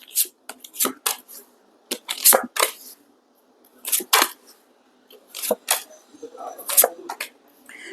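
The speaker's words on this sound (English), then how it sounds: "One last shuffle." Tarot cards shuffled by hand in a series of quick papery riffles and rustles, coming in separate bursts with short pauses between them, close and moderately loud with no talking.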